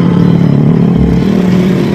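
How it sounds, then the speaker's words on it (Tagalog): A window air conditioner's compressor hums steadily and loudly close by, a constant low drone with a faint mechanical rattle throughout, no voices over it. "umaandar naman ang compressor niya"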